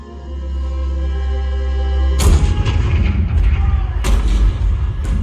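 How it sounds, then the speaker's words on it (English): A deep rumbling drone gives way to heavy booming cannon fire, several loud blasts rolling over one another with a sharp report near the end, in a theme park show depicting Fort Sumter, 1861. "The cannon spoke for war."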